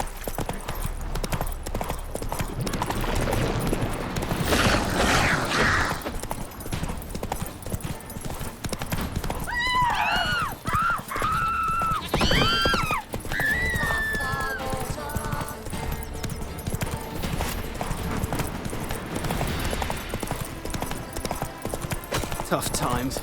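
A horse in The Witcher 3 gallops with rhythmic clip-clop hoofbeats throughout, joined by a few neighs and whinnies in the middle, and a voice speaks over it at times.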